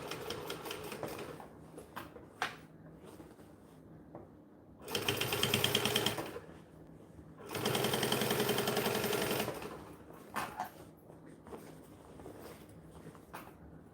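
Sewing machine stitching a seam along the edge of bonded nylon fabric runs in two steady whirring bursts of about two seconds each, close and fairly loud, with quiet handling noises between and around them.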